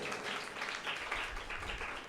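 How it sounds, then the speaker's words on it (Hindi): A church congregation at a Sunday service claps together for about two seconds, a soft, fairly distant patter of many hands. "ताली बजाने का दिल कर रहा है तो आप बजा सकते हैं"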